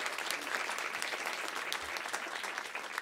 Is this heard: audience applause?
yes